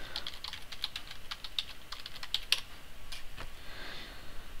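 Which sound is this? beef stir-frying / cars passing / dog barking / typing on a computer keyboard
typing on a computer keyboard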